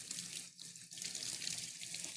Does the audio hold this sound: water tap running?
yes